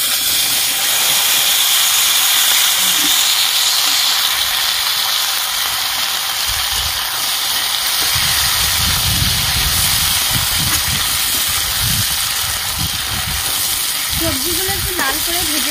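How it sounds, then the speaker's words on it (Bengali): Chopped vegetables frying in fish oil with five-spice seeds (paanch phoron), a loud continuous close hiss and sizzle with crackling bursts later on. "সবজিগুলো একটু লাল করে ভেজে নেব।"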